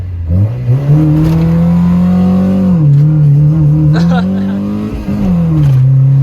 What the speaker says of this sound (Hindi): ये चेक करें जी, मिसिंग वाला लॉन्च।